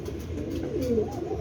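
A pigeon coos close by, a soft, low, throaty rolling call with no talking.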